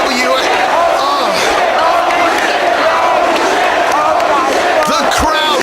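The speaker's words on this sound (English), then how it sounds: "Listen to the crowd, listen to the fans." A packed wrestling crowd at an FWA show roars loudly and continuously, cheering and yelling in a dense, sustained wall of voices with a few thuds near the end.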